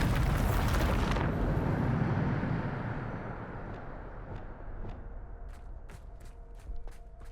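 A Bombarda spell blast in Hogwarts Legacy, a loud booming explosion with a rumbling roar that slowly decays over several seconds, followed by scattered sharp clicks and debris ticks.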